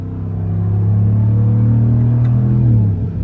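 A deep engine rumbles close by, its low drone climbing slowly in pitch as it revs up, then easing off at the end; a Ram TRX pickup truck engine revving.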